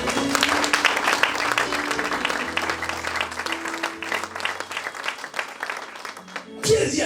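A church congregation claps and cheers in loud, dense applause. Voices call out over the clapping, which thins briefly before a final swell near the end.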